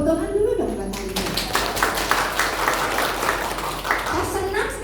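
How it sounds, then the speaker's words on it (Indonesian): An audience at a marriage enrichment seminar applauds for Aletea, dense clapping that starts after a moment and continues steadily, with a voice briefly audible over it. "Tepuk tangan dulu dong buat Aletea"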